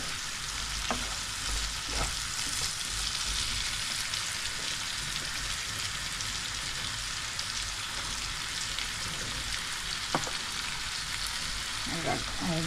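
Purple beans fry in a pan and turn green, giving a steady, dense sizzle with occasional soft stirring clicks throughout and a faint voice near the end.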